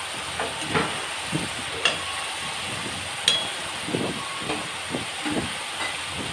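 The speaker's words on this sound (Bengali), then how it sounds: "এখন এটাকে নাড়তে থাকবো" Fish curry spice paste, loosened with a little water, is stirred in a pan: a constant low sizzling hiss broken by repeated soft scraping strokes at an irregular rhythm, close and moderately loud.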